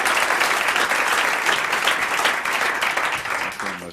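A studio audience applauds on a 1992 talk show, with thick, sustained clapping that stays loud and then fades slightly at the end, with a bit of talk mixed in.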